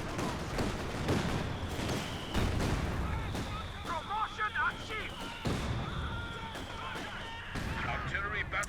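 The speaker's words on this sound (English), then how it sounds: "Here comes another artillery strike from the Walking Stuka." Artillery strikes from a Walking Stuka rocket launcher in a Company of Heroes 2 battle thud and rumble repeatedly, several booming impacts amid scattered gunfire while a commentator talks over the action.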